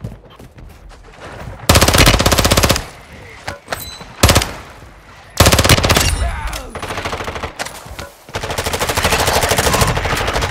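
Bursts of rapid submachine gun fire from a Lockman sub in Call of Duty: Modern Warfare II, several loud close volleys separated by short pauses, with a little talk between them.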